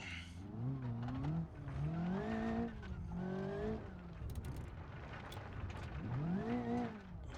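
A car in the BeamNG.drive driving game runs a lap, its engine revving up and down in repeated sweeps while tires squeal through the corners, loud and continuous.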